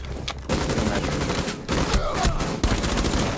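Rapid gunfire in Rainbow Six Siege crackles in loud, repeated bursts at close range, with a few short gaps between volleys.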